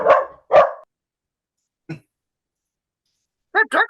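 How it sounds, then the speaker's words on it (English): A dog barks close and loud, two sharp barks in quick succession, then a short yelp after a pause and a final pair of barks, with silence between. "That dragon dog's awfully noisy."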